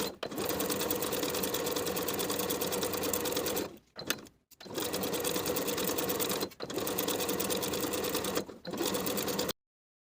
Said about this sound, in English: Sew the pocket band to the top of the pocket with a 3/8 inch seam allowance.